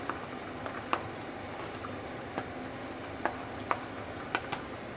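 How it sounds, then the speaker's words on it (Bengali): Chopped onions frying in oil for Bengali aloo chicken curry: a soft, steady sizzle with a few scattered light clicks and pops, close and moderately quiet, no talking. "এই তেলের মধ্যে পেঁয়াজগুলোকে হালকা ব্রাউন করে ভেজে নেব"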